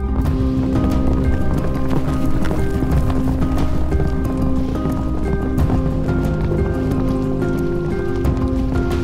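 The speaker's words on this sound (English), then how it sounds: "The yaks of Maqu also love running across the wetland grassland." Yaks of the Maqu wetland grassland on the Qinghai-Tibet Plateau run across the ground, their hooves making steady, dense thudding and clopping under a loud, continuous wash of sound.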